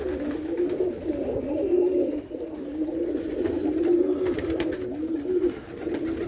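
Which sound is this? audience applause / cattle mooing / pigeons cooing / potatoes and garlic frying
pigeons cooing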